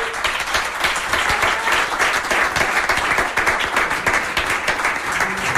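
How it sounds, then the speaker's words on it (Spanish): Sustained audience applause at a Senate candidates' debate in Fuerteventura, dense steady clapping from a room full of people, loud and continuous throughout with no talking over it. "Yo sí les pediría un aplauso a todos los candidatos"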